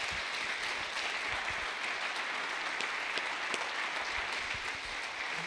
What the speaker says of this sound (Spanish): ¿por qué no le damos un aplauso a Dios por la vida de Lupita?